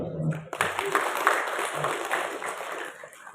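Applause from an audience at an education-office event in a school hall, a steady broadband clatter of many hands starting abruptly and sustained for a few seconds, with some voices mixed in.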